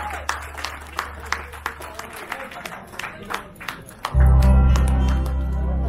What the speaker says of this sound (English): Give a big round of applause for mister Varun Kumar Ghosh.